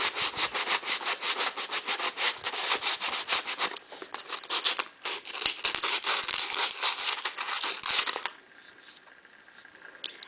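A wooden knitting needle made from a dowel is sanded smooth in quick, steady back-and-forth rasping strokes, close and fairly quiet, easing off near the end.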